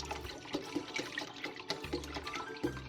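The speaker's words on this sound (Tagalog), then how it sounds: "itong chicken broth, ibuhos na natin dito" Chicken broth poured from a carton into a pot, a close, steady liquid splash and gurgle lasting a few seconds with small pulses, no talking.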